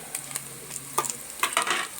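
Ginger garlic paste sizzles softly in oil in a pan with occasional scraping and stirring clinks, close by and steady.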